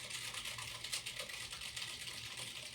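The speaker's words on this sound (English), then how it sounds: "very loud typing, I know." Loud, rapid typing on a computer keyboard at a 55-inch ApexDesk Vortex Series M standing desk, a steady dense clatter of keystrokes with no talking.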